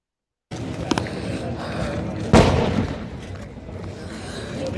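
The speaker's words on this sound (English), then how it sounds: "You just heard the sound of another very, very loud explosion." A very loud explosion near the Gaza Strip, one sharp heavy boom that rises out of constant rumbling background noise and then slowly fades.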